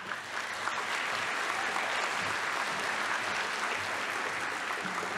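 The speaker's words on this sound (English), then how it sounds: "You can tell from the cheering from the audience that Mr. Kameh is very beloved" Audience at a high school spring concert award ceremony cheers and applauds steadily, a dense, loud wash of clapping with shouts that continues throughout without letting up.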